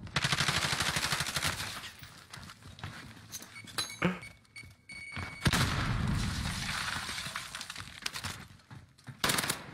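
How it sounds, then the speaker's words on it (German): Video game gunfire crackles in scattered bursts, sharp shots and metallic clinks coming and going with gaps of quieter game ambience between them, no talking. "hörst du auf mich zu schießen?"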